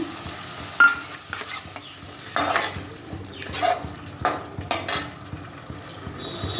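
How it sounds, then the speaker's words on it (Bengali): Tomato paste stirred in a frying pan for a Bengali potol dorma with fish roe, with a soft sizzle underneath and repeated scraping and clinking of a spatula against the pan, close up and without speech. "একটু নাড়াচাড়া করে দিয়ে দিচ্ছি টমেটো বাটাটা"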